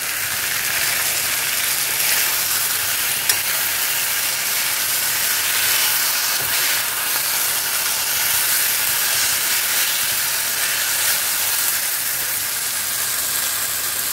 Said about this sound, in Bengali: চিকেনটা আগে দিয়ে দিয়েছি, চিকেনটা একটু ভেজে নেবো